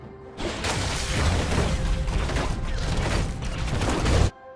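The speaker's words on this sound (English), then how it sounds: "Start by tagging your target with explosive charge, hitting rapid fire after so you can charge up the bomb as quickly as possible." In League of Legends, Tristana's explosive charge and rapid fire play out as a dense stretch of rapid gunfire, mechanical clatter and booms, loud and continuous before cutting off abruptly.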